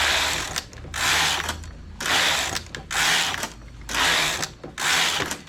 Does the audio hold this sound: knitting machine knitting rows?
yes